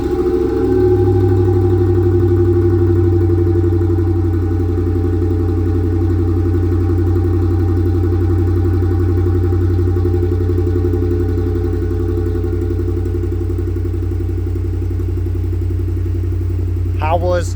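A 2008 Ford F-150 with the 5.4 Triton engine, started cold, settles into a steady, loud low rumble with a faint exhaust manifold tick, continuous throughout, with voices talking near the truck.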